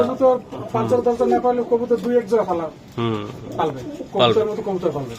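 Racing pigeons coo in bursts close by, their throaty calls layered over steady conversation between two men.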